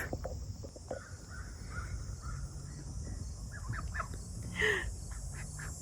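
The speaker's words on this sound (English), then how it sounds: "There's a goose attempting to escape." Outdoors among poultry, a goose and other fowl give a run of harsh honking calls and caws over a steady rustling background, with one louder cry near the end; no talking.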